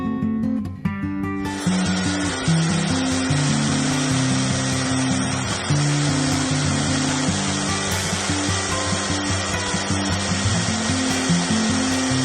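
A belt grinder grinds an O1 tool steel knife blade, a loud continuous abrasive roar with a steady motor hum that holds unbroken from start to finish after a brief start-up.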